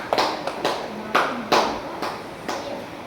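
A small group of junior high students in a classroom at SMP Negeri 3 Sowek claps for group 1 after their presentation, a handful of scattered, uneven claps at close range.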